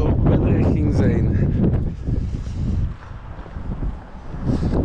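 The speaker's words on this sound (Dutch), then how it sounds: "Het is wel winderig." Strong gusty wind on Christmas Eve buffets the microphone in loud rumbling bursts that rise and ease over a few seconds, with a person speaking through it.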